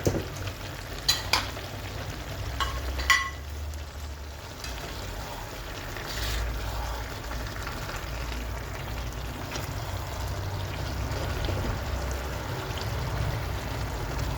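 Beef strips sizzle and fry in a pan of vegetable sauce, a loud, steady close hiss with a few stirring knocks near the start.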